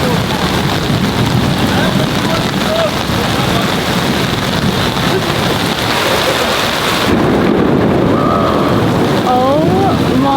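Heavy rain pours steadily over a Tokyo street, with rumbling thunder rolling through the downpour and a louder, closer surge of storm noise near the end, along with faint voices.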